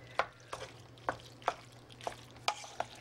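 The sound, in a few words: stirring noodles in melting butter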